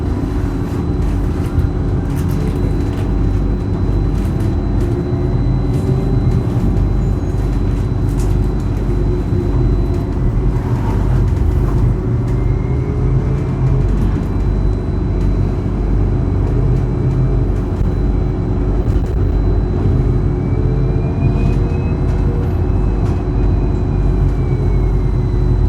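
A Sofia trolleybus hums with a steady electric motor drone while riding, a loud constant low rumble with a faint rising and falling whine running throughout, no voices.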